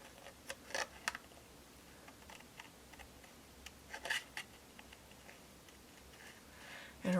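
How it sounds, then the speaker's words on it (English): Scissors snip by hand around a printed card image, fussy cutting along the edge of a bank picture, producing scattered soft clicks and snips close to the microphone with quiet gaps between them. "I'm actually going to fussy cut along the top of the bank,"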